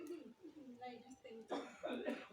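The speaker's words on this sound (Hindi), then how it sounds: "ये देखो वहाँ पापा खांस रहे हैं" A man gives a couple of harsh, rough coughs in quick succession in a home, heard among family voices chatting nearby.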